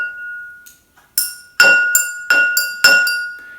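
A heavy wooden drumstick strikes glass objects repeatedly, giving bright ringing clinks with sustained glassy tones, about six hits spaced roughly evenly, loud and close, with no talking.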